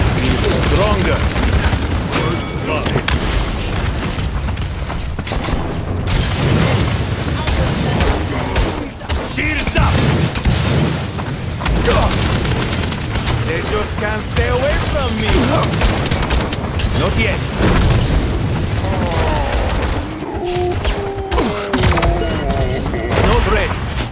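Gunfire in the hero shooter Paladins, a dense, continuous barrage of shots mixed with game effects and booms throughout, loud and steady, with a voice talking over it at times.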